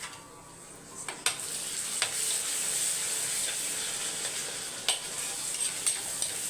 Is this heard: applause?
no